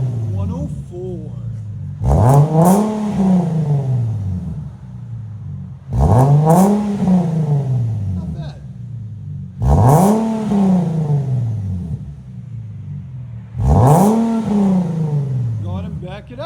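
A 2012 Infiniti G37 with a 3.7L V6 and HK5 mufflers revs hard four times in a row, each sharp climb and fall rising over a steady idle. The revs are loud and close, and a brief voice is heard between them.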